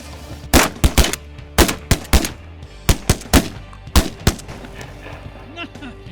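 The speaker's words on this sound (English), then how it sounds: "Good thing you guys can shoot." Shotgun blasts during a duck and goose hunt ring out in a quick irregular volley of about a dozen loud, sharp reports, some doubled close together, with little talk between them.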